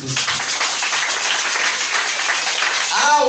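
A church congregation applauding, a dense, loud, sustained wash of clapping from many hands that continues throughout.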